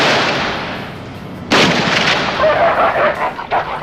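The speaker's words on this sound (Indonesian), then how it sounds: "para pemburu anjing liar menembaki anjing-anjing itu" Gunshots from a 1983 film scene of hunters shooting wild dogs: a sharp burst of firing erupts after a noisy stretch, followed by scattered shots and rumble.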